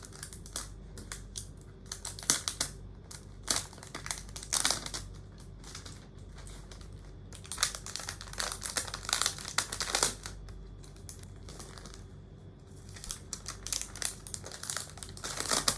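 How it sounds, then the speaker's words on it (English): Plastic protective film crinkling and rustling as it is peeled off an ASUS Zephyrus G14 gaming laptop, with close, irregular crackles and soft tearing bursts across the whole stretch, no voices. "I need to remove this plastic covering on the laptop"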